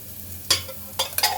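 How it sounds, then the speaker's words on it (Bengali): Onions go into hot mustard oil in a pan while cooking mushroom with vegetables, bursts of sizzling and scraping stirs in three quick strokes over a quiet background hum. "এবার দিয়ে দিলাম পেঁয়াজ"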